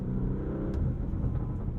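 A 2021 Lamborghini Urus on throttle liftoff, its exhaust giving a loud close rumble with a quick sharp snap early on and a few softer burbles trailing after.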